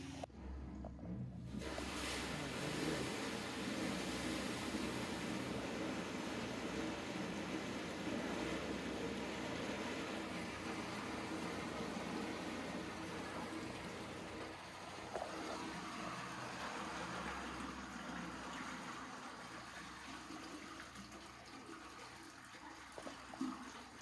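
A suction hose pumps out a septic tank, producing a continuous loud gurgling, rushing slurp that stays steady for the whole stretch, with no voices.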